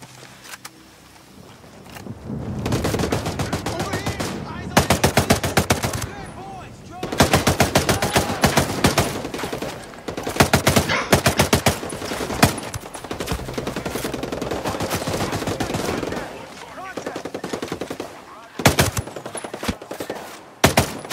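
Bursts of automatic machine gun fire in the game Ghost Recon, loud rapid rattling volleys separated by short pauses, repeated many times across the clip.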